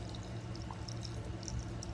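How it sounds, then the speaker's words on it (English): Tap water pours into a container holding a pothos cutting, a soft steady trickle with faint splashes and drips, quiet and close, with no voices. "now we're just going to pour some water in there"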